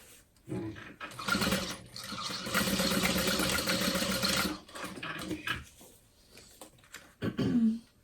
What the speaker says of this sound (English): Put my needle in, back stitch, and go forward, and sew around.